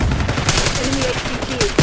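Rapid automatic gunfire from Call of Duty's Babylon map rattles in loud, dense bursts, with a brief tonal game voice cue partly underneath.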